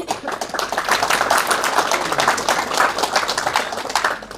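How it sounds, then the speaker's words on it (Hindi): MBA students in a lecture hall clap together in a steady, dense burst of applause that swells and holds for several seconds before tapering off, with no talk over it. "जिसने नहीं बोला है वो उनके लिए तालियां बजाओ"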